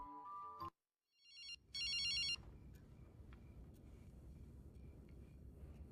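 A phone ringtone chimes in short bright electronic bursts after a brief cut of other sound, then gives way to a low, rumbling ambience.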